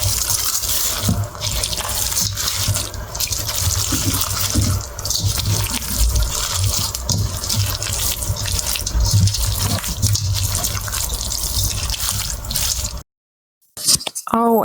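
Water pours steadily into a cooking pot of Polish bigos with cabbage and mushrooms, a continuous splashing gush that stops abruptly near the end.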